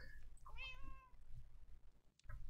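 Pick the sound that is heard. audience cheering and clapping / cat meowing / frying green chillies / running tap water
cat meowing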